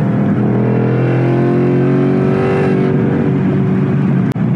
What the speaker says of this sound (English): in the upper RPMs, this car really pulls hard